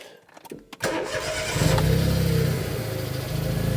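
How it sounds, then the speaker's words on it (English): A Smart ForTwo with a suspected gearbox fault has its ignition switched on: a short click and quiet pause, then the engine catches and settles into a steady, fairly loud idle hum close by. "I'm going to just turn the ignition on."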